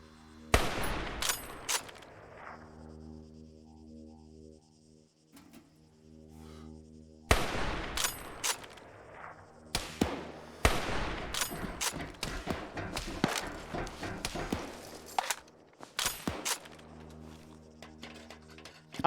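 Colt gunshots in a shooter game: sharp, loud reports, a few isolated at first and then a long run of irregular rapid shots, each leaving a ringing tail.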